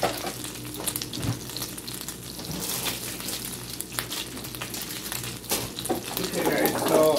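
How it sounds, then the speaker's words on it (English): Spanish sweet onion frying in a pan for homemade old-fashioned cheeseburgers, a steady close sizzle with scraping and stirring clatter, with some talking over it. "So I'm just gonna fry it up for her."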